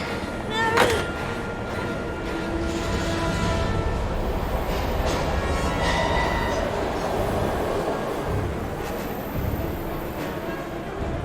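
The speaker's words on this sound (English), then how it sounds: "We gotta get on that train, Ethan." Train in the video game Heavy Rain, a steady rumbling rail roar with faint squeals and clatter running continuously under speech.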